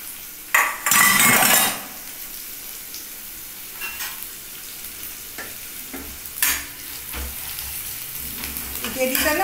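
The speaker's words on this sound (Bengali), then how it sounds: "আর এই পেঁয়াজ রসুন কুচি একটু তেলের মধ্যে ভেজে নিই।" Chopped onion and garlic frying in oil for a fish and egg curry, a close sizzle with bursts of loud spattering and clinks of a spoon against the pan.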